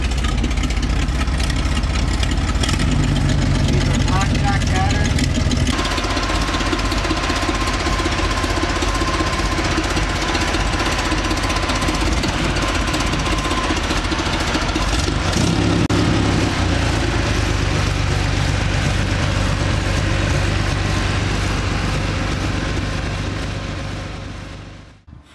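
A Jeep CJ5 with a freshly rebuilt carbureted 289 V8 runs steadily nearby, a loud continuous rumbling idle with a brief rise in engine note partway through, heard alone without talk.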